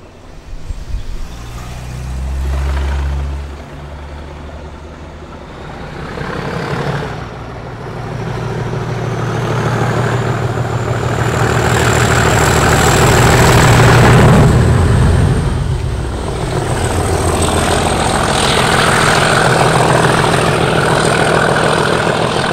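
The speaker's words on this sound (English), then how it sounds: "37308 accelerates briskly up the bank towards Medstead and 4 Marks." Class 37 diesel locomotive 37308 on the Mid Hants Railway, climbing a bank toward Medstead and Four Marks, its engine growling and building in a sustained loud heavy roar throughout.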